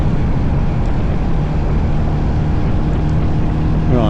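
A Royal Enfield Hunter motorcycle accelerates hard to overtake on a rideout to Dungeness, with loud, steady close engine drone and heavy wind rush throughout.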